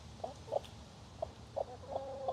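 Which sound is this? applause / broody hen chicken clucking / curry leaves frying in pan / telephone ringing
broody hen chicken clucking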